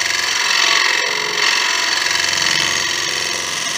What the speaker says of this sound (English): Very, very light scrape.